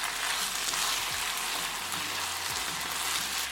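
Fried rice with shrimp and egg crackles in a hot pan, a dense steady sizzle with occasional soft stirring scrapes, close and even throughout, without speech.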